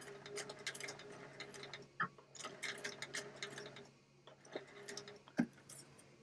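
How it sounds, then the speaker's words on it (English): Home sewing machine backstitching elastic casing on doll pants, a steady close mechanical whir with rapid ticking needle strokes that pause and restart, plus a couple of sharper clunks. "So I'm going to go ahead and backstitch."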